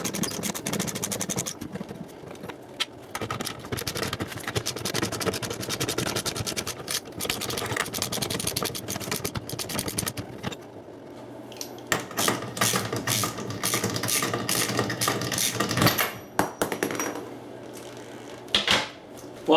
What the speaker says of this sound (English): I'm going to use me a ratchet to spin these off.